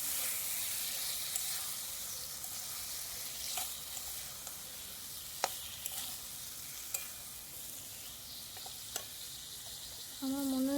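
Chicken stirred in a pan over a clay stove outdoors, a steady sizzle with sharp scraping clicks of the spoon every second or two, fairly faint and close, with no speech.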